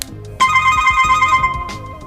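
Smartphone ringtone from an incoming call on a cheap handset, a loud bright melodic tone starting abruptly and playing a repeating pattern for about a second before cutting off.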